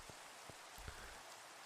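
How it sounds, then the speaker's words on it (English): Rain falling in the video game The Citadel, in the Low Town area: a steady, faint wash of rainfall with a few soft drip-like taps scattered through it. "The rain."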